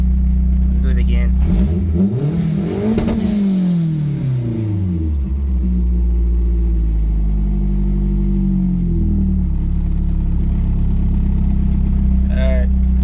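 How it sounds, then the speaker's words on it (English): A Mazdaspeed 3 engine with a fueling fault revs up and falls back while parked, one loud rise and drop in pitch followed by a steady idle rumble, with no talk over it. "I'll do it again."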